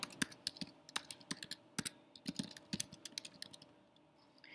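Rapid keystrokes on a computer keyboard as an email address is entered, irregular clicky taps in bursts with brief pauses, close and alone.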